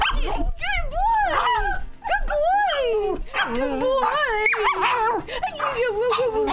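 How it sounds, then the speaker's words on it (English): A puppy howls and whimpers in repeated rising and falling yips and whines, close and loud, with a person talking and encouraging it between the sounds. "Can you give him a howl?"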